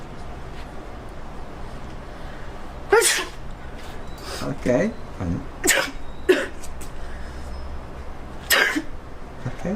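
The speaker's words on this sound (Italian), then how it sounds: "Mi fai qualche starnuto?" A few sneezes burst out one after another on request, sharp and close with pauses between them, and a person briefly speaks in between.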